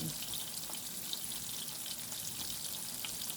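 Food frying in hot oil, cooking until golden, gives a steady, soft, hissing crackle with faint pops throughout and no talk.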